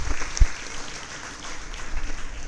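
Audience applause at the closing ceremony of a kindergarten teacher training camp, a steady wash of clapping that holds for the whole stretch at moderate loudness with no voices over it.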